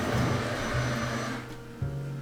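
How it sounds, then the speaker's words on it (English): A robot vacuum roams indoors hunting for its charging dock, giving a steady mechanical whir with shifting low motor tones that stop and restart as it changes direction, heard in the background. "My robot vacuum."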